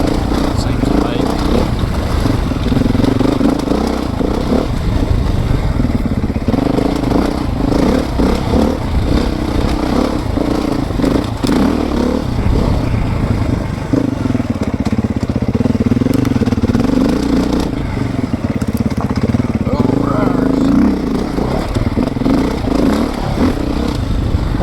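A 2024 Beta 430RR dirt bike running under a rider, a loud continuous engine drone rising and falling with throttle, mechanical clatter throughout and someone talking over it.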